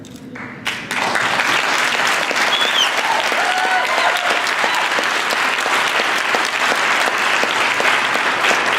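An audience bursts into loud, sustained applause at a river conservation award speech, a dense wash of clapping that starts abruptly and holds steady to the end, with no talk.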